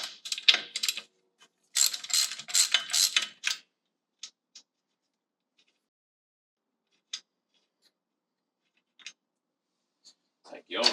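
Socket ratchet clicking while removing the spark plug from a Honda GX35 trimmer engine, with bursts of quick ratcheting early on, then a few isolated faint clicks and a brief rustle at the end.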